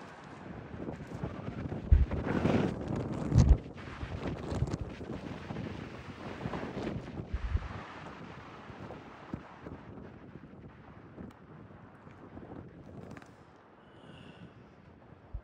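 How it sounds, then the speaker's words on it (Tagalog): Wind gusts buffet the microphone in uneven bursts on a hillside, loud at first and then settling into a softer, steady rush outdoors. "Sarap ng hangin dito. Walang ganitong hangin sa city."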